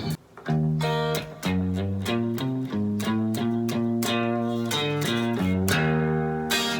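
A clean twangy country guitar picks a quick bouncy lick, single notes and bass runs, steady and upfront with no voices.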